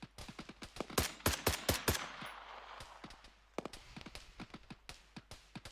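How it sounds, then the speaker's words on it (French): Gunfire in the military game Arma 3: irregular sharp shots and short bursts at moderate distance, fairly quiet, with gaps between volleys. "Pour moi, ce qui tire, c'est depuis le sud, là, derrière la rivière."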